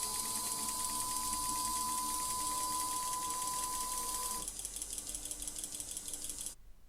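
A model storage robot arm moves between grid positions with a steady mechanical whirring and faint ratcheting, quiet and close, ending abruptly.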